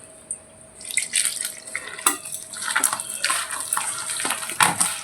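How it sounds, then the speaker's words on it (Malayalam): Water is poured into flour batter for Kerala elanji ada snacks, giving a run of close splashes, trickles and drips that start after a quiet moment and carry on with uneven bursts. "കുറച്ച് വെള്ളം ഒഴിച്ച് അങ്ങനെ കുഴച്ചെടുക്കാം"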